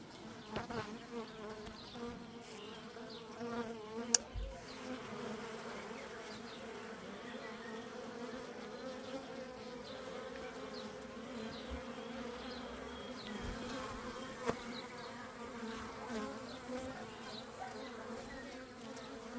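Honeybees at an open beehive give a steady, dense buzzing drone that holds at a moderate level throughout, with a couple of faint clicks along the way and no talk.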